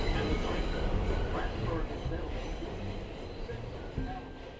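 A rumbling subway train fills the space with steady low noise and faint rail clatter, loud and continuous throughout.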